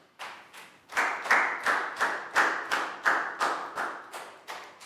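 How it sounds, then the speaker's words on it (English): Rhythmic clapping from a primary school class during a Year 4 maths lesson, about a dozen sharp, evenly spaced claps close by, steady and fairly loud with no talk. "High five and a big round of applause for Net."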